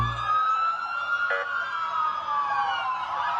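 A police siren wails steadily, its tone sliding up and down, fairly loud and close, with a brief short burst partway through.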